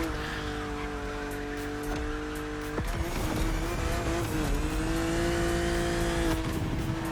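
A BMW in The Crew Motorfest racing game drives at speed with a steady, loud engine drone, shifting pitch near the three-second mark and rising again toward the end, with light tire noise underneath.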